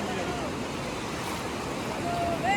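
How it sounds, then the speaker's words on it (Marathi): Ocean waves wash steadily onto a beach in a continuous broadband roar, with wind buffeting the microphone and faint voices in the background. "त्या बघा हे लाटा आहे."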